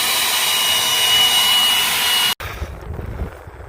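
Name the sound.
blower blowing dust off a combine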